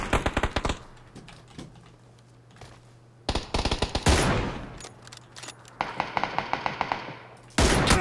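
Rapid bursts of automatic gunfire in an online battle royale shooter, loud and close, arriving in several separate volleys with quieter gaps between them, plus brief talk in one gap.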